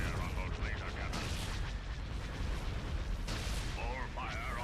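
Starship laser cannons firing in Thrawn's Revenge 3.2, a Star Wars strategy game, with a New Republic fleet battling a Mandator III: dense, continuous rumbling bursts and booms, with chirpy electronic tones and a voice line over the top.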